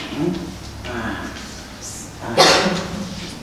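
A single sharp sneeze bursts out in a township board meeting room, clearly audible amid ongoing speech.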